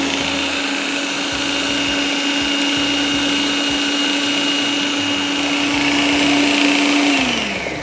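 Kitchen blender grinding green chutney of coriander, mint, green chilies, ginger, garlic, cumin, lemon juice and curry leaves, a steady loud motor whir with churning, holding constant for most of the time before winding down at the end.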